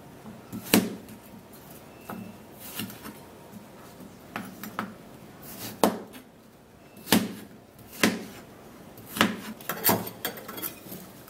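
A knife chops food into small cubes on a cutting board, producing a series of sharp, separate taps at an irregular rhythm, fairly close and moderately quiet, with no voices.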